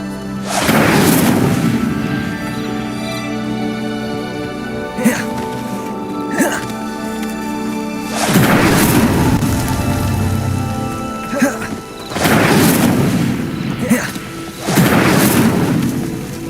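Fire spell bursts in Hogwarts Legacy, several loud whooshing, crackling blasts spaced a few seconds apart over a steady rain-like ambience, each swelling and fading, with occasional sharp cracks between them.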